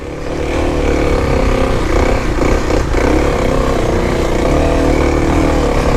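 A Kawasaki KLX300 dirt bike engine drones loud and close as the rider slips the clutch up a steep off-road hillclimb, holding a steady, strained pitch throughout.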